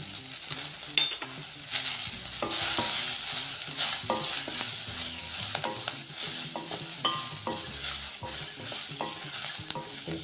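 Ginger pieces and cumin sizzle in a pan for tomato chutney, with steady close frying and repeated scraping stirs and clinks of a utensil against the pan, without speech.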